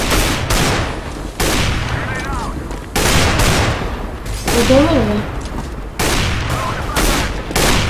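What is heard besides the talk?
gunfire in a video game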